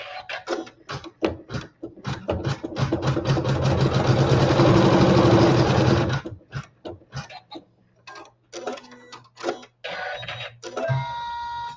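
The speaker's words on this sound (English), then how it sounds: "we'll sew our seam" A sewing machine stitches a seam joining triangle fabric to lattice fabric on a quilt block. Short bursts of rapid mechanical whirring give way to a steady run of several seconds, then stop-start bursts and a few clicks.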